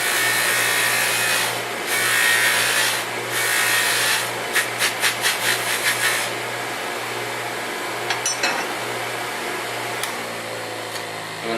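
A hand-held wheel rake dresses a ZAM polishing wheel spinning on a jewelry polishing motor, giving a steady motor hum under bursts of rough scraping and a run of quick rhythmic rasps, with nobody talking.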